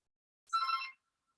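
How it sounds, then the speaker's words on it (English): A telephone gives a single short ring burst, faint and lasting about half a second, set against silence before and after. "I gotta unplug the phone"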